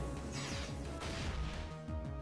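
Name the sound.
Flame Charge move smashing hit in Pokémon video game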